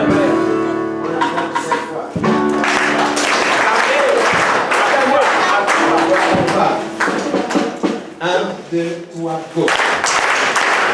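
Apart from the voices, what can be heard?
congregation applauding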